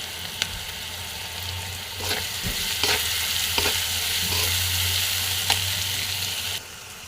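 Pumpkin and rohu fish curry seasoned with cumin powder fries in a pan with a continuous sizzle, punctuated by several distinct spoon scrapes and taps, close and moderately loud, before the sizzle softens at the end.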